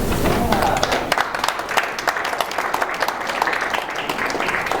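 Audience applause at a tenants association meeting, many hands clapping in a crisp, sustained burst that carries on steadily, with voices mixed in.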